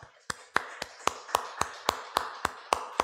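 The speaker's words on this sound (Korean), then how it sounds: "하나님 영광의 박수 드리겠습니다" During a Sunday worship service at Phnom Penh First Church, the congregation claps in slow unison, about a dozen crisp, evenly spaced beats ringing out with a little room echo.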